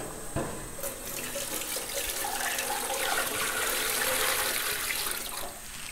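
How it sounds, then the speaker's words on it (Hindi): Water is poured from a jug into a large cooking pot, a steady, full gushing pour running continuously and fairly loud with no one speaking. "इसमें हम तकरीबन कोई 3 से 4 जग जो है स्टैंडर्ड साइज़ पानी के डालेंगे"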